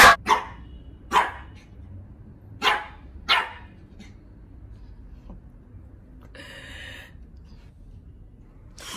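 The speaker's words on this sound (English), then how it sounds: "Do you know she barks at her reflection?" A pet dog barking sharply and close, four quick barks in the first few seconds, then quiet room noise with a brief rustle.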